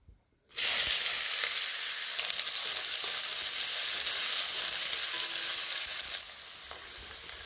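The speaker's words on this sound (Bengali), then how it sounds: "ওই একই তেলে দিয়ে দেবো পেঁয়াজ, কাঁচা লঙ্কা" Onions and green chillies dropped into hot oil left over from frying fish, setting off a sudden loud, steady sizzle that holds evenly for several seconds before dropping to a softer hiss.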